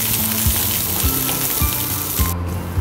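Loud, steady sizzling of onion and curry leaves frying in hot oil after mustard seeds, with a few faint stirring scrapes and no voices.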